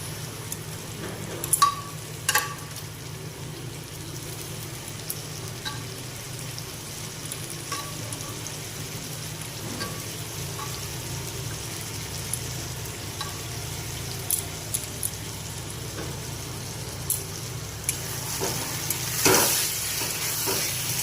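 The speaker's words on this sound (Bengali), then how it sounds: "এবার আমি মাংসটা দিয়ে দেবো, সিদ্ধ করা মাংসটা।" Boiled mutton is added to a tomato and spice masala, raising a steady moderate sizzle with occasional stirring clatter and a louder hissing burst near the end, with no talking.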